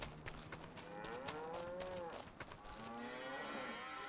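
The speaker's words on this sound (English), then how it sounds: "I hear the cows." Cows mooing in the Farming Simulator 25 video game, several drawn-out, overlapping moos, fairly loud and close, with no talking.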